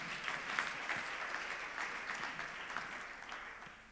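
A church congregation at a live school service claps hands together, a soft, distant, steady wash of applause that slowly tapers toward the end.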